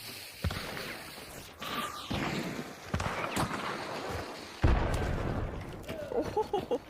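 Frag grenade explosions in a multiplayer shooter video game, several heavy booming bursts at irregular intervals with a big blast late on, mixed with gunfire-like pops and some player chatter.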